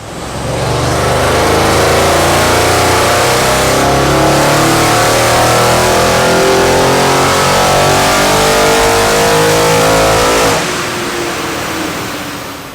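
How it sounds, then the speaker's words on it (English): A 4-litre twin-turbo V8 in an Audi C7 RS6 revs hard on a dynamometer, a loud, close, sustained roar climbing through the gears for about ten seconds before cutting back to a lower drone. "So we've just dyno tested the RS6"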